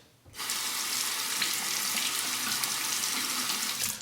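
Water running steadily from a tap for a rinse while lathering up for a shave, a close, continuous hissing stream that starts suddenly and runs alone for several seconds.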